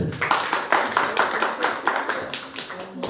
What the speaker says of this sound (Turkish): Konuklarımız da güzel alkışlarıyla eşlik ettiler.